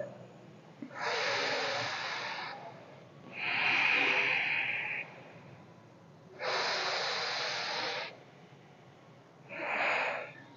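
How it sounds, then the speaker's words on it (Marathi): Rhythmic alternate nostril breathing in a yoga exercise, heard as four forceful, airy nasal inhalations and exhalations separated by short pauses, close and clear with no talking. "उजवीने म्हणजे सूर्यनाडीने श्वास घेतल्यानंतर शरीरात उष्णता वाढते"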